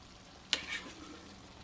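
Browned meat frying in a pan at an off-grid outdoor cooking setup, a faint steady sizzle with a sharp stir or scrape near the middle.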